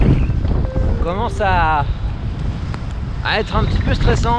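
Strong, gusting wind roars across the microphone during a stormy bicycle ride, a steady buffeting rush with someone speaking French over it.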